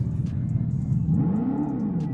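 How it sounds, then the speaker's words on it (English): Simulated exhaust note from a 2025 electric Dodge Charger being revved, a loud close synthetic engine drone that swells and rises in pitch then eases back, with faint talk underneath. "Y'all hear the loud pipes"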